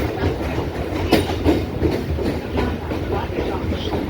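A Gede local train rumbles along near Ranaghat with a steady clickety-clack of wheels over rail joints, heard from inside at close range, loud and continuous.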